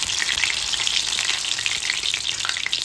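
Green chili fritters (mirchi bhaji) frying in hot oil on a low flame, a dense, close, bright bubbling sizzle that holds steady for the whole stretch.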